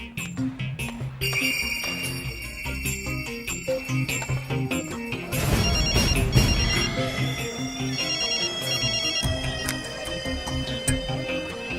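A mobile phone plays a melodic ringtone loudly and continuously, a bright sequence of repeating electronic notes ringing close by without pause.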